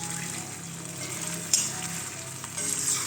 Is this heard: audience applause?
no